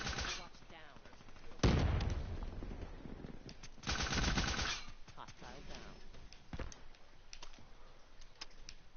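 Rapid automatic gunfire from a Black Ops 3 multiplayer match comes in two loud bursts over quieter game sounds, with keyboard clicks and a voice talking in between.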